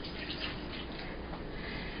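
Two cups of water pour into a pot holding packed brown sugar, giving a steady, close rushing splash that runs unbroken and fairly quiet throughout, with no talk.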